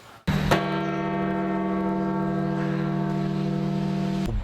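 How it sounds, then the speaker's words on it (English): Church bells ring throughout Vatican City, one loud struck tone opening and then a sustained, rich metallic hum of overlapping partials that rings steadily without pause, heard clearly with no voices. "Bells rang throughout Vatican City following the death of Pope Francis."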